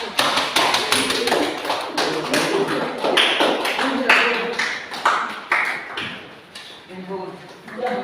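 A classroom group applauds group 1 with a burst of dense clapping that carries on for several seconds, mixed with voices.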